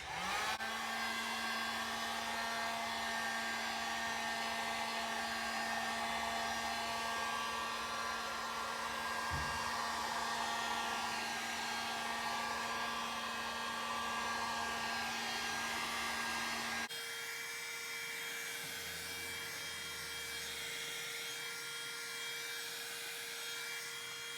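A heat gun or hair dryer warms a car emblem on a Charger Scat Pack, blowing a steady, loud, close whine with a constant hum, dropping to a lower pitch near the end.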